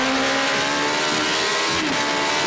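A racing motorcycle at the Isle of Man TT screams at high revs into a turn, a loud sustained engine whine that dips slightly in pitch near the end, with no voices.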